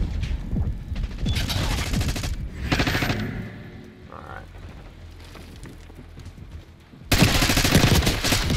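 Gunfire in Call of Duty: Black Ops 6 comes as close, loud bursts of rapid shots, with a quieter stretch in the middle and a heavy final burst at the end.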